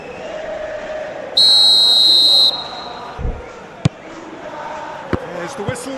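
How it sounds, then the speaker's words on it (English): A referee's whistle in the PES 2026 football video game gives one long, steady, high-pitched blast of about a second over a low crowd murmur, followed by a few soft thuds. "There's the whistle, and here we go."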